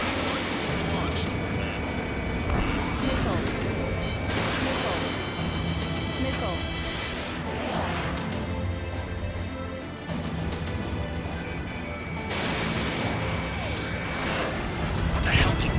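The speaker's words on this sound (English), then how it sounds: "Missile launched." A fighter jet launches a missile in Ace Combat 7: Skies Unknown, amid continuous jet engine roar and whooshing bursts, with radio voices talking throughout.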